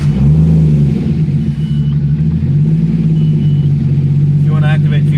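Turbocharged car engine with a resonator exhaust, likened to an LS V8, rumbles steadily and loudly up close, its low exhaust drone swelling slightly as it revs; no talk over it.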